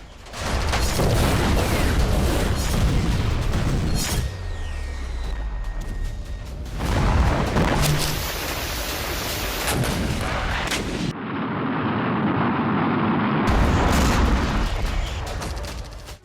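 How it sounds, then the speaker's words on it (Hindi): Explosions from a Russian air strike in Chasiv Yar, a series of heavy booms and blasts with rumbling aftermath, loud and close, separated by brief quieter gaps of debris and noise. "रूसी एयरफोर्स की भीषण बमबारी, चासोव्यार में रूस की एयर स्ट्राइक हुई।"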